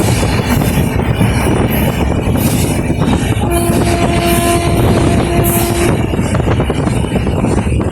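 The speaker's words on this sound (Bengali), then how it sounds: "তারপরে নিউ কুচবিহার থেকে ট্রেনটা ছেড়ে দিল সেই 9টা 24-এর কাছাকাছি।" The Uttarbanga Express runs after leaving New Cooch Behar, heard from inside the carriage as a loud, steady rumble and rattle of wheels on track, with a sustained metallic squeal rising in the middle of the stretch.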